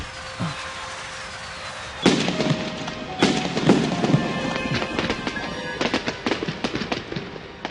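Fireworks go off in an animated school scene: after a quieter opening, sharp bangs and crackling pops burst out repeatedly, some loud and close, others scattered and lighter.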